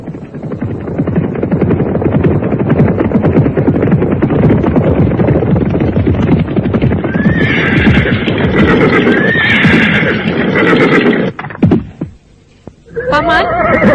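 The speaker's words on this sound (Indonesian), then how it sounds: "kuda yang ditinggalkan oleh kuda Sumekar, menerobos jalan setapak di hutan pinus" Horse neighing and whinnying over steady clip-clop of hooves on a forest path through pine woods, a loud continuous radio drama effect with the neighs rising near the end before a brief drop and another whinny.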